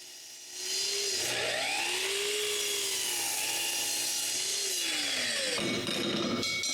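A saw cuts a wooden board to width for a drawer front: after a brief start-up the blade's steady whine holds for several seconds, its pitch dipping and rising under load before it trails off near the end.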